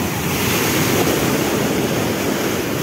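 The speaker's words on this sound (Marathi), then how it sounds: "इथं लाटा खूप मोठ्याला बघायला भेटतं आपल्याला" Loud, continuous roar of big ocean waves breaking on a beach in Goa, dense and close with a rushing wash and some wind, no voices.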